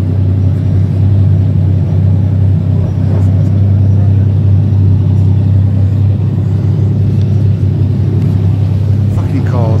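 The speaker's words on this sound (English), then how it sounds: "it's Dundee Lambo's loudest Lamborghini in the world" A very loud Lamborghini supercar engine rumbles deep and steady at close range on a street film set, a constant heavy drone with faint voices underneath.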